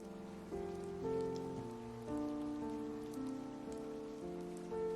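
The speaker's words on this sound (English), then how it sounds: "Are you talking about the Minecraft music with the rain?" Rain patters steadily under soft, sustained Minecraft music, with slow, gentle tones shifting over a constant wash of rainfall and no voices.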